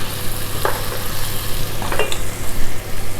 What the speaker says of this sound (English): We want to saute all the chicken until they are swollen up and they become juicy and round